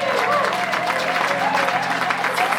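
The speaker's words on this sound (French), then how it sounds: "Acclamez le Seigneur. Acclamez Dieu pour vous-même." A church congregation applauds at a service, a dense steady wash of clapping that fills the whole stretch, with voices mingled in.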